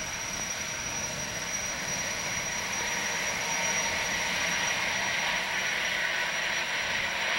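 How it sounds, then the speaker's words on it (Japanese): The gas turbine engines of a new Tokai Kisen jetfoil, the Seven Island Yui, roar as it departs: a loud, steady, broadband rush with a constant high whine throughout. "ガスタービンのエンジンがものすごい音を立てて出発していきます。"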